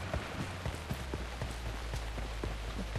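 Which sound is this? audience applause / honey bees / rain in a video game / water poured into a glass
rain in a video game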